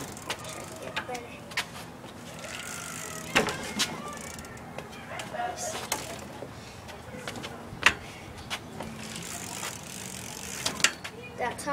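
BMX bike tire bouncing on the ground, giving sharp thumps and rattles at irregular intervals with a clicking, ratcheting hub between them; a person talks now and then over the mechanical noise.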